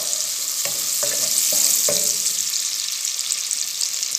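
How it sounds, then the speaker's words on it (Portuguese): A medium chopped onion sautéing in bottled butter, a loud continuous sizzle with several soft stirring knocks from the spoon early on, close up and without voices. "Dá uma refogada nessa cebola"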